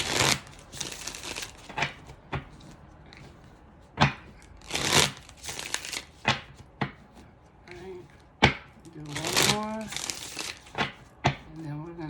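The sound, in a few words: Witch's Tarot cards being shuffled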